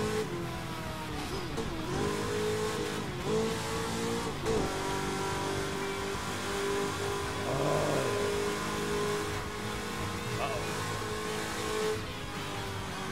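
A car driving and revving continuously in the racing video game Burnout Paradise Remastered, a sustained engine drone rising and falling in pitch through gear changes, with no talk.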